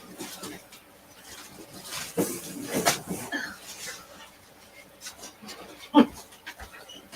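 A dog pants softly and irregularly indoors, close by, mixed with scattered rustling, light clatter and one sharp knock near the end.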